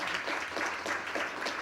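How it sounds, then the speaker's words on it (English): Audience clapping at an evening medical symposium, a steady dense burst of applause from a room full of people, close and sustained throughout with no speech. "So we'd like to give a big round of applause for all the arrangements tonight."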